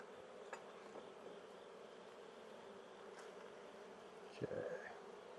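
Honey bees from a fall swarm hum around an open hive, a close, even buzzing drone with individual insects flicking past, and a brief voice near the end.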